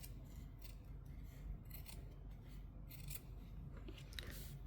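Scissors cut through fabric for a babywearing bag: quiet, close snips and rasping blade strokes repeat in an uneven rhythm, with no talking.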